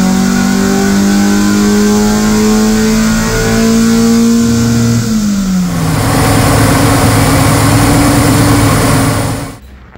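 A Suzuki Twin Cam engine with a FuelTech ECU revs hard on a dyno run, a loud sustained roar climbing in pitch through the gears, then cutting off abruptly at the end, with no talk.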